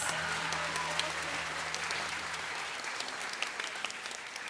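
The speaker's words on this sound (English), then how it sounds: "Give them a round of applause." A concert audience applauds musicians at a middle school spring concert, a steady dense wash of clapping sustained throughout, fairly distant, with a faint low tone lingering early on.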